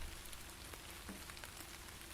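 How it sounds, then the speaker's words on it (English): Steady rain falls in the video game Dark Nights, a constant soft hiss of drops that stays even and fairly faint for the whole stretch with no voices. "I don't want to stay in the rain any longer than necessary"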